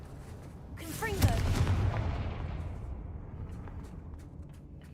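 A Confringo spell blast in the Hogwarts Legacy video game, a single explosive boom with a whooshing burst that rumbles and fades out over a few seconds, set against background game ambience.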